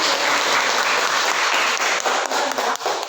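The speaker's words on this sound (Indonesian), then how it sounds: "Oke, terima kasih tepuk tangan." Steady, dense applause from a classroom audience during a teacher's lesson, a close, loud wash of many clapping hands lasting the whole stretch with slight dips near the end.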